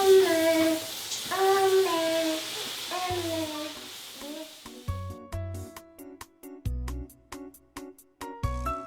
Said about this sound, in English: my oil is pretty hot now, I can start frying. Fry until nice and golden color.